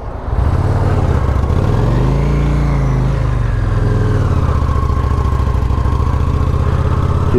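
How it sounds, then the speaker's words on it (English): A motorcycle engine runs steadily and loud throughout, held at a rough idle to burn deposits out of a dirty carburetor that would barely rev, with a low rumbling drone and no talk. "Just trying to burn some of that crap out of the carburetor."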